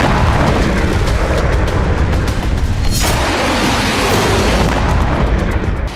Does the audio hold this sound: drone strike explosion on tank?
yes